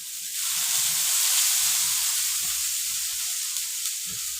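Wheat roti fries in coconut oil in a pan, a close, steady hiss of sizzling oil that swells after a quiet start and holds evenly throughout.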